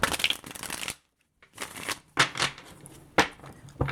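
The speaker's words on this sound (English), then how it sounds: "Let's reshuffle that." Tarot cards being shuffled in short bursts of riffling and flicking, close and crisp, with brief pauses between handfuls and no talk.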